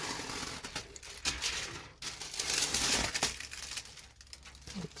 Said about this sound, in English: But I'll just peel this stuff off.